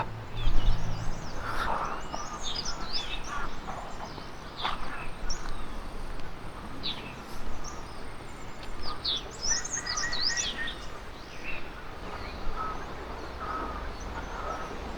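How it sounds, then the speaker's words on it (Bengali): Many birds call at once in Himachal Pradesh: crows caw while smaller birds chirp and tweet in overlapping bursts over a soft outdoor hiss. "কত পাখি, যে কত পাখি ডাকছে"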